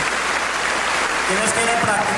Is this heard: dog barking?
no